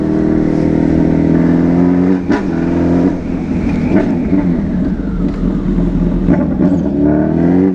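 A Suzuki B-King motorcycle accelerates hard up through the gears on a street, its loud, close engine note climbing and dipping with each shift.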